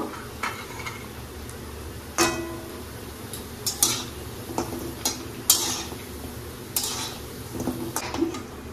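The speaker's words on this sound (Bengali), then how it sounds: "বড়িগুলো লাল লাল করে ভেজে নেব।" Lentil dumplings frying in very hot oil for a mixed vegetable curry, producing a low continuous sizzle punctuated by sharp metallic clinks and scrapes of a utensil against the pan.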